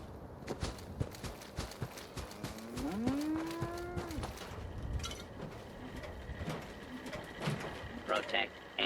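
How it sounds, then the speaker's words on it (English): A Brahmin cow in the video game Fallout 4 lets out a single drawn-out low moo amid game ambience and clattering footsteps, with someone talking softly. "A Brahmin. A heifer patty, waiting to be slaughtered."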